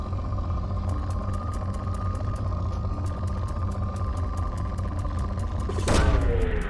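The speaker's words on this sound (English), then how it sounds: "Launching probe." Mass Effect 2 probe launch: a steady low hum and rhythmic ticking scanner pulses build to a sudden whooshing burst near the end as the probe fires off, loud and close with a rumbling tail.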